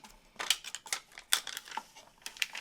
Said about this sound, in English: let's peel the transfer tape off